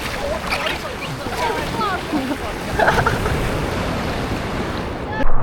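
Ocean surf at Mulki rolls and crashes continuously near the shore, with wind buffeting the microphone and a splash building toward the end, while voices call out over it.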